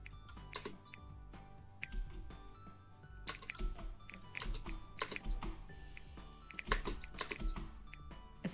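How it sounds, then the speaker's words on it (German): Keyboard keys and a mouse clatter during a gaming session, with rapid, irregular clicks and typing bursts close to the microphone, continuing throughout without speech. "Ich versuche so leise wie möglich zu klicken, Mann."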